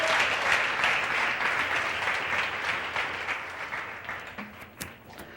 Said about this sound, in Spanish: Dar un aplauso al Señor para siempre.